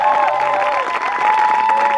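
A church congregation bursts into loud, sustained applause and cheering, a dense crowd roar of clapping and raised voices filling the room.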